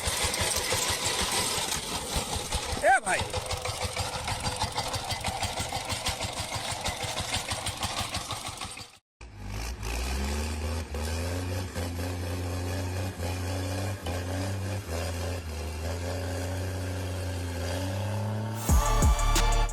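A mini tractor engine runs loud and close with a fast mechanical chatter, cuts out briefly, then resumes as a lower, steadier idle with a shifting pitch.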